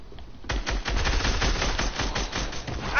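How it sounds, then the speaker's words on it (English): Rapid automatic gunfire from a video game shooter, a dense stream of loud shots fired at an enemy after a quiet start, continuing steadily for several seconds. "I'm shooting at him."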